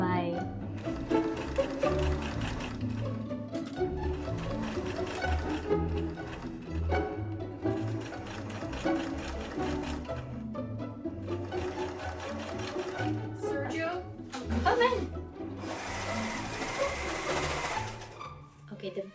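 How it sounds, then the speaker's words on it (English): A serger sewing machine runs in repeated bursts while finishing a fabric edge for a dress, its fast mechanical whirr loud and close, pausing between runs, with a person talking briefly at times. "serge this edge real quick first"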